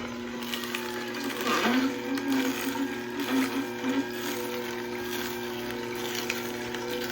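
A Ninja NeverClog cold press juicer works through celery with a steady motor hum and grinding whir, continuous and fairly close, with a few louder surges as pieces feed in.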